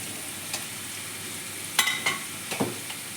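Cut, washed green beans dropped into hot oil in a pan where potatoes were lightly fried, a steady sizzle with a few sharp crackles and clinks from stirring.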